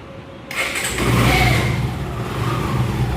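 A car engine cranks and catches, then revs up loudly and settles into a steady, rumbling run nearby.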